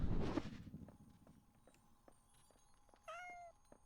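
A cat in a video game gives one short, bright meow near the end, after a burst of louder noise and some light, evenly spaced ticking steps.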